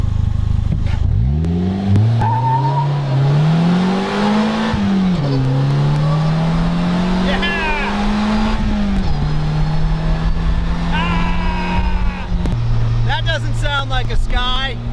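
A Polaris Slingshot three-wheeler accelerates hard, its engine climbing through the gears with rising, falling revs, loud and close, while a person talks over it.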